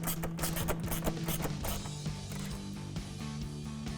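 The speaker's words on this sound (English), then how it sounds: "to do this, we're going to use our 12mm socket" A ratchet with a 12mm socket tightens the intake clamp on a 2018-2023 Mustang EcoBoost, a close series of quick clicking strokes that loosen into a faint steady whir.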